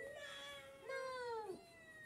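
A house cat gives two drawn-out, whiny meows close by, the second longer and falling in pitch, against a quiet indoor background.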